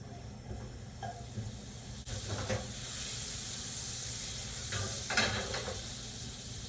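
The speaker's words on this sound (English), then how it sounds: "First thing we do is add the butter and get that melting." Butter melting in a pan gives a steady, soft hiss and sizzle throughout, with a few brief louder crackling bursts, and no talking.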